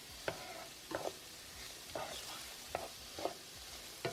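Bacon browning in a pan for BBQ baked beans, with faint stirring clicks and scrapes recurring about every second over a steady low sizzle, no talking.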